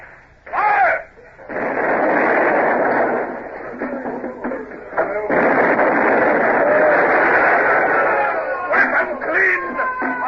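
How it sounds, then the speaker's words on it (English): Carronade cannons on a sailing warship firing grape shot in a radio-drama battle: a sharp boom near the start, then a long, loud roaring barrage with cracks and shouting voices throughout. "Starboard carronades load with grape shots."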